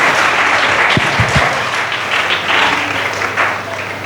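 A church congregation claps during a Hindi sermon, with a few sharp near claps standing out over steady broadband clapping that runs throughout at a moderate level.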